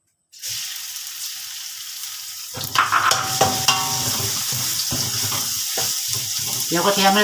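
Garlic frying in oil for a pork neck dish starts after a brief silence with a sudden loud sizzle that bubbles and crackles steadily close by, with a few stirring clinks and no clear talk.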